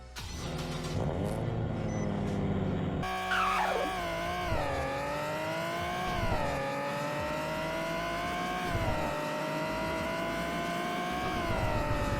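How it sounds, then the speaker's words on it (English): A straight-piped G35 with a tired VQ engine in the Greenville driving game revs hard and pulls through rising and falling gears, a loud, raspy exhaust drone with a brief tire squeal early on. "Let's see how well this tired, straight-piped VQ can move."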